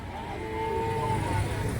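A native cow gives a single drawn-out moo at the Orappam cattle market in Krishnagiri district. The call is moderately loud over a steady background rumble of the crowded market.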